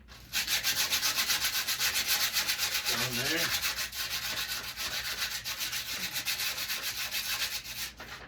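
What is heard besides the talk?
wet sanding with sandpaper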